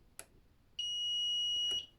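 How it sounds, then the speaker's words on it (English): A home automation system's electronic doorbell, triggered from a button at the front door, gives a single steady, clear beep of about a second, with faint clicks just before and after. "the doorbell should be beeping"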